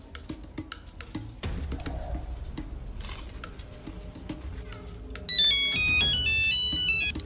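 A mobile phone ringtone plays a bright repeating melody that starts suddenly and rings loudly near the end, over a dull indoor bed of clatter and light movement, with no speech.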